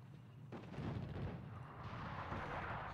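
Artillery fire in a WWII strategy game set in North Africa at Tobruk, a dense rumbling roar of shelling that swells and continues, distant and muffled, with no talk.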